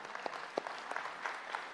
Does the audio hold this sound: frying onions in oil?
no